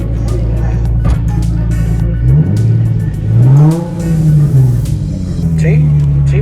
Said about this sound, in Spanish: Vamos a darle un pequeño acelerón